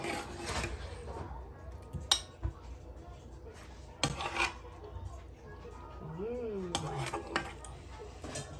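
Dishes and cutlery clink and scrape while peppered ponmo (cow skin) pepper sauce garnished with parsley is served, a few sharp clinks among steady scraping, with a voice speaking briefly in the background.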